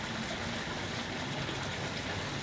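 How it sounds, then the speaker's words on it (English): A switched-on outdoor fountain gushes water in a steady, broad rushing wash that fills the whole stretch without pause or change in level. "the sudden sound is that the fountain start to be switched on at 8 a.m. in the morning, so pardon that background gush of water."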